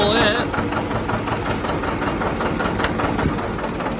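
A John Deere 70 diesel tractor idles low with a steady, rumbling chug, heard up close while someone talks over it.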